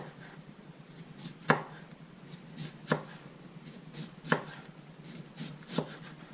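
Knife slicing halved cabbage thinly on a cutting board, four sharp, evenly spaced chops about 1.4 seconds apart, close and clear over a quiet background with no talking.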